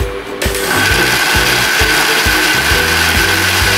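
A spoon churns chia seed protein pancake batter in a bowl: loud, close, rhythmic scraping strokes that repeat several times a second against a gritty rubbing hiss, with no voices.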